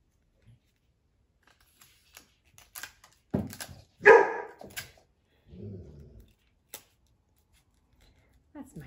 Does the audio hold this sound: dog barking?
yes